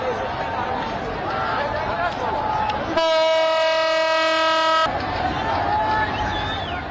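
A train horn blares in a steady two-second blast amid the continuous rumble and rattle of an overloaded freight train passing, loud and close.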